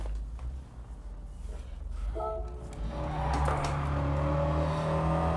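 An engine-swapped Ford Mustang drives in Gran Turismo 7, its engine droning steadily and then climbing into a louder, sustained roar as it accelerates, with no talk over it.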